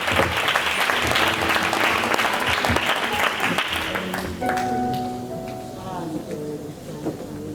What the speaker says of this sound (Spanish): Con un fuerte aplauso, dejamos al siervo del Señor que él siga adelante con este culto.